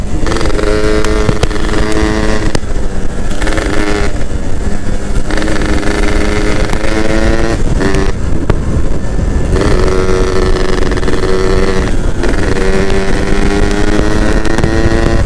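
Yamaha F1ZR two-stroke motorcycle at full speed, its engine and expansion-chamber exhaust wailing loudly and close throughout with a rising, buzzing pitch, brief dips between gear changes, and wind buffeting the microphone.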